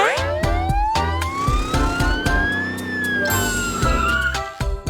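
A wailing siren rises and falls steadily, loud and close, with a busy background of other noise beneath it.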